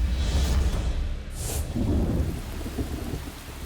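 Typhoon weather over Luzon in the Philippines: a deep roll of thunder rumbles over the steady hiss of heavy rain, close and continuous for a few seconds with no voices.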